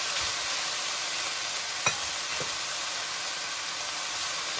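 Wild garlic flowers stir-frying in a hot pan, a constant bright sizzling hiss with a couple of faint clicks of a utensil partway through, no talking.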